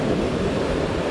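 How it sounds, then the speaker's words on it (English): Choppy ocean surf on a Florida beach during stormy weather, a continuous loud rushing wash of waves with wind buffeting, no talking. "Waves starting to get choppy."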